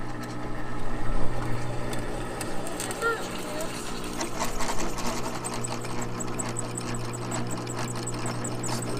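A milling machine with its auto feeder engaged cuts a trailer hitch insert, giving a steady mechanical whir and hum with faint intermittent metallic ticking. It runs continuously at moderate level, and a voice speaks briefly over it.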